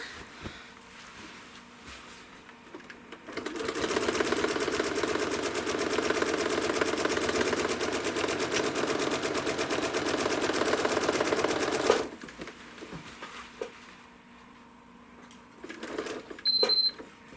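A sewing machine stitches a quilt seam in a steady, rapid run of needle strokes lasting several seconds, starting and stopping cleanly, with quieter handling sounds of fabric before and after.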